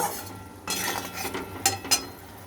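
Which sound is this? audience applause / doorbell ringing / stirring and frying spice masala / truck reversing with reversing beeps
stirring and frying spice masala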